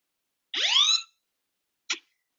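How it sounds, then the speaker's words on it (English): An iPhone's emergency SOS alarm sounds: one loud, shrill sweeping tone lasting about half a second, then a short sharp blip after a gap, with no talk over it. "it'll actually sound an alarm, and it will call 911"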